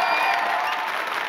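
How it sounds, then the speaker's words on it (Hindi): Studio audience applause for Rakhi on the Deal or No Deal game show stage: a dense, steady wash of clapping with some cheering, filling the whole brief moment. "एक बार तालियां जोरदार राखी जी के लिए।"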